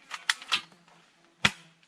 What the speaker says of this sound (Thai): ปืนยาง